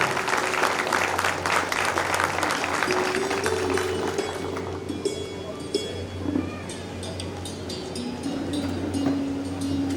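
Audience claps to welcome Som Tyagi onto the stage in Raipur, loud applause at first that thins out and tapers, with a steady hum beneath.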